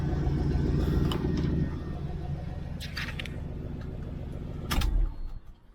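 A lifted 1987 GMC K20 squarebody truck idles with a low rumble, then its engine is shut off with a final thump and the sound winds down to quiet, with a few clicks along the way.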